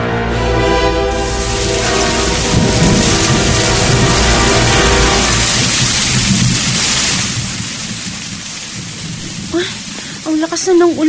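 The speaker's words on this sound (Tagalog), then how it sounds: "Ang lakas na ng ulan." Heavy rain pours in a loud, dense roar for most of the stretch, with a low hum beneath it, before easing and giving way to faint voices near the end.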